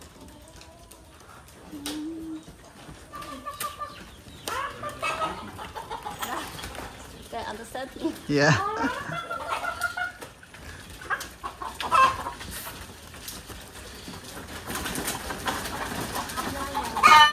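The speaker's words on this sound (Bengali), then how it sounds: "এখন বর্তমানে সব মুরগি।" Chickens on a farm, several birds clucking and squawking at close range in irregular bursts, with a few voices speaking briefly among them and a louder flurry toward the end.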